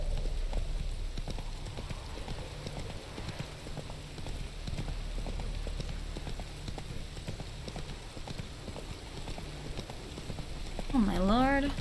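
Rapid clip-clop of a horse galloping in a video game, a steady hoof rhythm running throughout at moderate loudness, with a brief whinny-like call near the end.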